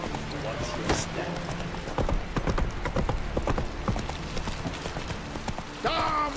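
Roach the horse gallops in The Witcher 3, a steady run of hoof clip-clops mixed with game ambience, while voices talk in the background.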